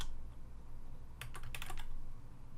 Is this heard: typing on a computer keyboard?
yes